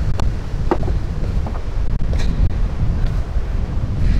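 Strong wind buffets the microphone in a loud, continuous low roar at the Chalaadi Glacier near Mestia, Georgia, with faint gusting and splashing in the background.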